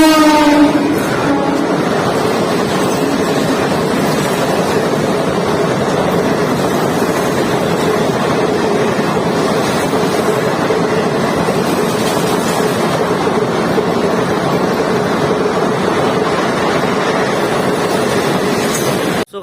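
A train rumbles through a two-platform railway station at Sant Hirdaram Nagar, a loud, steady roar of rolling wagons with a brief horn-like tone at the start and wind buffeting the microphone.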